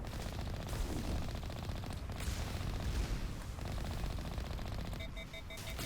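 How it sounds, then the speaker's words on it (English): Turret gunfire in the video game Mass Effect Legendary Edition during a Geth incursion: dense, continuous rapid-fire bursts with booming impacts, loud and unbroken across the whole stretch, with no talk. "There's just turrets."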